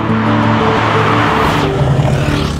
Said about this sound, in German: Ja, der E400 Biturbo V6 mit 333 PS.